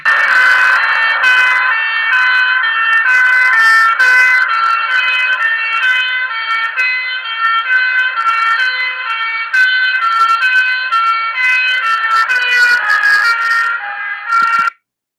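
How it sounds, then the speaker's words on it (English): A fire truck siren wails loudly and steadily for about fifteen seconds, its pitch gliding up and down in repeated cycles with a Doppler shift as the truck approaches, then cutting off abruptly at the end. "what happened to the sound as the fire truck was approaching"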